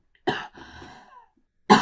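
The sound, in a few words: cough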